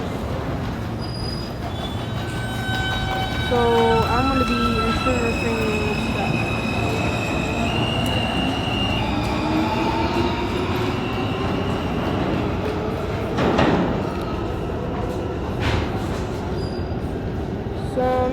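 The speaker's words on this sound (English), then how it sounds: "The E train left." An R160 Siemens E train pulls out of Lexington Avenue–53rd Street station on the New York subway, its rumble building with high wheel squeals and whining tones sweeping up and fading, loud and close, with a brief spoken remark.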